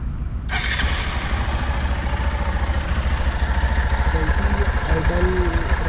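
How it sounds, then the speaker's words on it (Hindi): A Hero Xpulse 200 motorcycle with about 8000 km on it idles in neutral, its engine chugging with a steady, even low rumble at close range. "आइडल रनिंग है अभी इंजन।"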